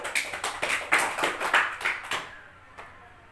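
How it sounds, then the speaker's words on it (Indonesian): A classroom audience claps for a student during a religious and moral education lesson, with a burst of rhythmic, close applause that fades out after about two seconds. "Beri aplaus untuk saudari Rahmatul Aulia"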